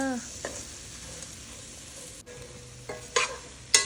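Ginger garlic paste frying in oil for prawn biryani, stirred now and then, giving a steady low sizzle with a few sharper scrapes and clinks of the spoon near the end.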